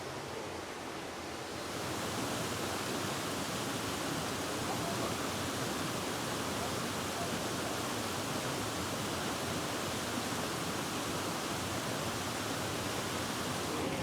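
A steady, loud rush of falling water from a waterfall, broadband and continuous, filling the scene without a break and with no voices over it.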